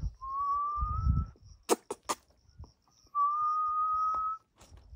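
A person whistles to a 3.5-month-old male Chihuahua puppy: two long, steady, high whistled tones separated by a few sharp clicks and knocks, close and clear in a quiet room.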